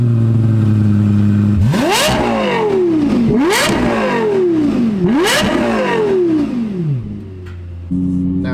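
A Lexus LFA supercar starts up, then its engine revs sharply three times in quick succession, each rev climbing steeply and falling back, before settling into a steady idle, close and loud.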